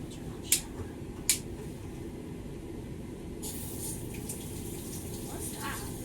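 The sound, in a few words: shower water running from the tap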